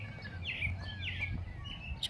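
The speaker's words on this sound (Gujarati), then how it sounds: "જો પક્ષીનો અવાજ સંભળાય છે." Birds sing outdoors in a Canadian residential neighbourhood near a park: several short, bright chirps and whistled phrases repeat a few times over steady low background rumble, fairly close and clear, with no talking.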